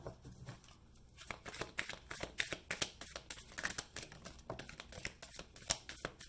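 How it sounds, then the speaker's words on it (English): A deck of tarot cards is shuffled close by in a quiet room, a quick run of soft riffling flicks and papery slaps at a faint level. "I've always shuffled 3 times."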